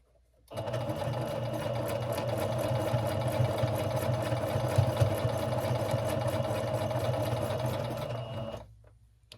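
A sewing machine runs continuously at steady speed with a dense mechanical whir and rapid needle clatter, close and loud, stopping abruptly near the end.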